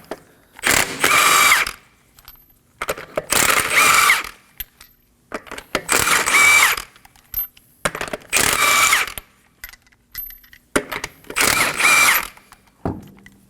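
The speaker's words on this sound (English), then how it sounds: "Using a 21mm socket, we're going to remove the wheel." An impact gun with a 21mm socket whirs in five loud, evenly spaced bursts while loosening the front wheel nuts on a 2016-2020 Kia Sorento 2.4L, with quiet gaps and small metallic clinks between.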